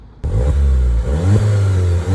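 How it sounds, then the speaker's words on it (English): Turbocharged Volkswagen GTI engine starting to rev abruptly, a loud close mid-pitched drone that climbs and dips in pitch through a couple of throttle blips, with no talking. "It does sound a little better when you're driving because you can hear the turbo go psh."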